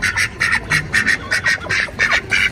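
Ducks quack loudly and close by in a quick, repeated rhythm of short bursts, with no talking, as they are herded into their pen.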